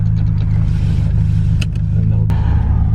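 Nissan 240SX with an ISR catback exhaust accelerating: loud, steady low engine drone and exhaust rumble close up, with a few sharp clicks and pops over it.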